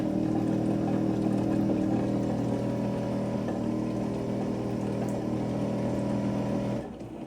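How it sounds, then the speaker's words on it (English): A Jobo ATL 1000 film processor's motor pumps water from tank 1 into the processing tank, a steady close electric hum with a pumping drone that runs evenly and then cuts off near the end. "you can hear the motor pumping the water in tank 1 into the tank"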